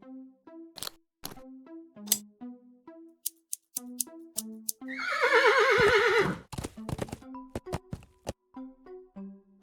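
A horse in a video game gives a loud, shrill whinny lasting over a second, set among soft plucked-string musical notes and light game sound effects.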